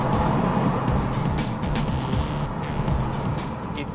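Audi Q3 facelift petrol SUV with front-wheel drive and a 6-speed dual-clutch gearbox cruising on a road, a steady, muffled cabin rumble of engine and tyre noise with no talking.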